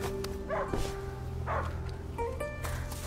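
A dog in the video game A Plague Tale: Innocence barks a few times at irregular intervals, short sharp yaps over a quiet background.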